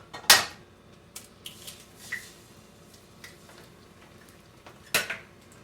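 Pans and utensils clink and clatter while a Swiss Senne Röschti is prepared and an egg is readied for frying, with two sharper metallic knocks standing out against quieter, scattered kitchen handling sounds.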